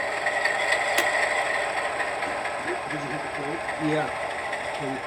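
An Alco diesel model locomotive with a Tsunami sound decoder, backing onto passenger cars during switching on a layout, gives a steady engine rumble with clattering and rattling, and voices talk over it at times.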